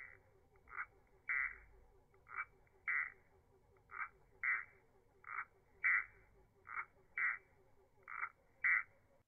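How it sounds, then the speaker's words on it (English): A slowed-down song of a long-spurred meadow katydid, evenly spaced buzzy pulses, about a dozen bursts repeating steadily over a low hum, close and clear. "we found this long-spurred meadow katydid, and I took the slow-mo video"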